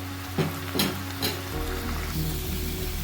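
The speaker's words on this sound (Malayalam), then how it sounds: "ഇത് നല്ലോണം ഫ്രൈ ആയിട്ട് വരണം" A curry leaves chutney mixture fries in a pan with a steady, close sizzle. A few soft stirring knocks sound near the start.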